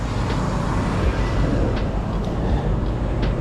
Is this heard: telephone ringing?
no